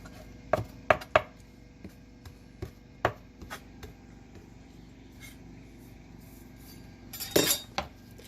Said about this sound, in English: And the same with the oregano. We'll chop that up a little bit.